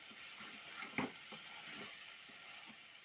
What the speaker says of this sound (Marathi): हे हिरवे वटाणे पाच मिनिट याला तेलामध्ये उद्यायचे आहे